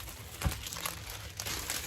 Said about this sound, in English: These are the plastic bags here.